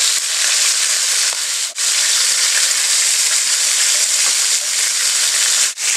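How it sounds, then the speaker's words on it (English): Chicken sizzles steadily in hot oil on a stovetop, a dense continuous frying hiss with two brief dips in intensity, close and fairly loud with no voices. "So far I've spent about 20 minutes frying chicken"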